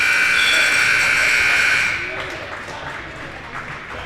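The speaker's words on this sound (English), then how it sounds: "The buzzer will be going here." Scoreboard buzzer at a high school wrestling match in a gym sounds as a loud, harsh sustained blare for about two seconds, then cuts off, leaving crowd murmur and background noise.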